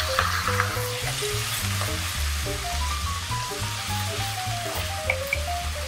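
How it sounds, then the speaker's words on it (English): Ginger garlic paste fries in a pan for a Punjabi dal makhani, a loud close sizzle running throughout with stirring scrapes and a wavering tonal hum underneath, no talk. "what you need to do is you need to add ginger garlic paste."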